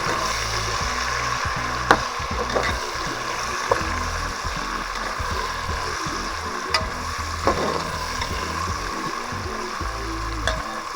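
Chickpeas and mixed vegetables fry in oil for a vegetable pulao, a continuous close sizzle broken by sharp clicks and scrapes of stirring at irregular moments.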